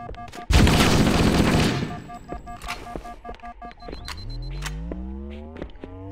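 Charged plasma shots fire in Halo: Combat Evolved, starting with a loud burst of crackling blasts that fades, followed by scattered sharp clicks and a rising whine.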